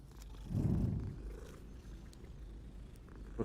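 A cat purring in the video game Hogwarts Legacy, a brief low rumbling purr lasting about half a second, followed by faint background ambience, with no speech.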